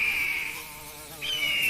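A swarm of bees pours out of a hive in a loud, close buzzing drone. The sound dips briefly in the middle, then surges again, with no voices.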